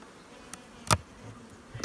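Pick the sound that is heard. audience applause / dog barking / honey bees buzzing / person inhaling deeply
honey bees buzzing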